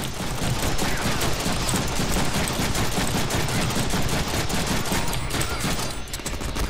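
Gunfire in the Deadpool video game comes as dense, continuous rapid shots and bursts that keep up loud and unbroken for several seconds.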